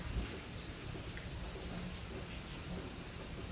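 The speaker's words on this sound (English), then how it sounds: "I'm trying real hard to listen to the rain" Faint, steady rain patters softly, heard through an open door onto a courtyard, an even hiss of falling drops with no other clear sounds.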